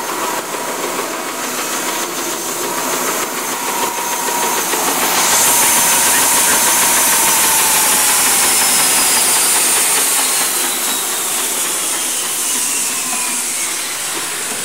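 A Timesaver 125 wide-belt sanding machine runs steadily with a loud, continuous mechanical roar and hiss, rising slightly in intensity partway through and holding throughout, with no talking.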